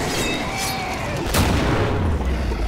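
Grenade blasts in the shooter game Killing Floor, a dense rumbling boom that swells midway over constant low roar, with sustained heavy noise filling the short stretch.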